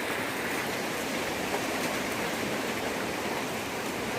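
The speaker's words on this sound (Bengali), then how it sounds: "পাহাড়ি অঞ্চলের বৃষ্টি দেখেন কি অবস্থা" Rain pours down in a hilly region of Bandarban, a dense, even hiss of falling water that holds steady throughout with no voices.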